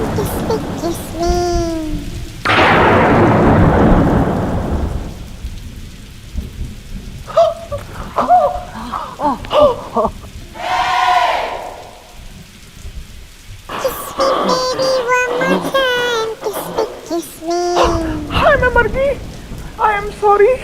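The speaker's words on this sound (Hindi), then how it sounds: "जब तक ये तूफान थम नहीं जाता" A thunderstorm with heavy rain pours down in loud bursts, with a rumbling thunder roll early on, set among a comic Hindi TV scene where people talk and a song plays over the storm.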